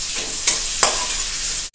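Chopped onion, ginger, garlic and green chilies fry in a wok for a ridge gourd curry, a close, even sizzle broken by two sharp stirring scrapes before it cuts off abruptly.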